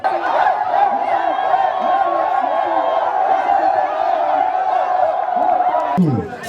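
An audience cheers and applauds steadily for several seconds at an event, with loud, dense, overlapping voices and clapping that carry on without a break.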